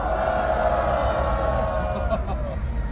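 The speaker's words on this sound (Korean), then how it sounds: "자, 직원분 큰 박수 함성으로 모셔보겠습니다" Rally crowd at a night candlelight protest in front of the Constitutional Court cheers and claps in a dense, sustained roar of voices and applause.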